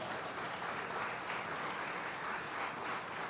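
Loud, sustained applause from an audience at an India News Gujarat ceremony honouring Gujarat Police, an even roar of clapping hands with no pauses throughout.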